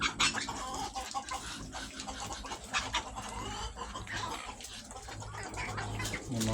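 Rhode Island chickens cluck and murmur softly in a busy group while feeding on rice mixed with vegetables, over a constant rustling, scratching background, with occasional louder bursts and no clear voices.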